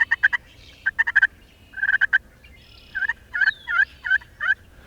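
A turkey friction call, its surface scratched by a striker, gives a run of short, close yelps in uneven clusters, with brief pauses between bursts and a slightly sliding tone on later strokes.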